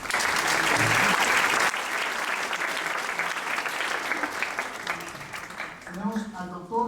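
Warm applause at a school event in honor of a visiting doctor, dense clapping from a crowd that swells at the start then slowly thins, ending as a voice begins speaking over the fading claps.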